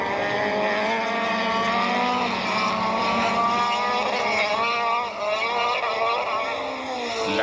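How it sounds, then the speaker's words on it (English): Onboard a big BMW touring car during a 1998 Bankfin Touring Cars race at Aldo Scribante, its engine holds a steady, loud, high-revving drone that rises and falls slightly through gear changes across the whole stretch. "Race cam action is from the big Sassel BMW"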